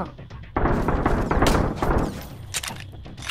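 Gunfire in the survival video game Sunken Land during a raid on a gas station island: a dense, continuous stretch of rapid shots and thuds layered over one another, loud and close, with no talking over it.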